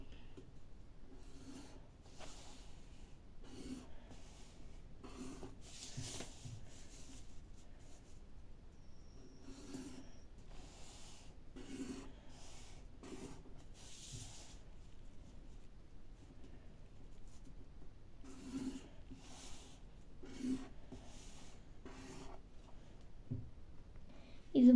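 A pencil sketches lines on paper in soft scratching strokes, repeated in short bursts with pauses between them, faint and close.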